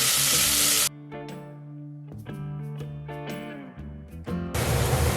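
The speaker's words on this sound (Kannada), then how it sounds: "ಇನ್ನೊಂದು ಮೀಡಿಯಮ್ ಸೈಜ್ ಈರುಳ್ಳಿನ ಹೆಚ್ಚಿಟ್ಕೊಂಡಿರ್ತಾರೆ, ಇದನ್ನು ಹಾಕಿ ಚೆನ್ನಾಗಿ ಫ್ರೈ ಮಾಡೋಣ" Chopped onion sizzles loudly in coconut oil for a Kerala-style chicken sukka, a harsh close frying hiss that cuts out for a few seconds of tuneful music and then returns.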